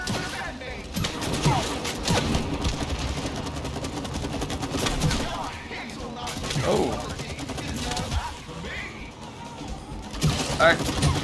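Boss battle against a rhino beetle mercenary in the co-op video game It Takes Two, with rapid bursts of gunfire repeating steadily throughout and players talking over the shooting.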